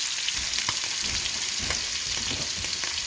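Scallops sear in a hot pan with oil and butter, a loud, continuous sizzle with crackling pops and a few stirring scrapes, no voices.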